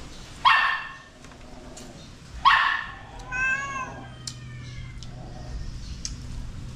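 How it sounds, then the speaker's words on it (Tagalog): A cat gives one drawn-out, wavering meow after two sharp, close dog barks, then faint background noise continues. "tingaw ng pusa."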